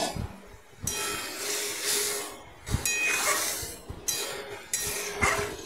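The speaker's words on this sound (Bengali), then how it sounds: "এইভাবে ফোড়নের মশলা থেকে তেল ছেড়ে সুঘ্রাণ বেরোলে ডালটা যেটা বানিয়ে রেখেছি ঢেলে দিলাম।" Cooked dal is poured into hot oil tempered with spices, setting off loud hissing sizzle in bursts, broken by a few clinks of utensils against the pan.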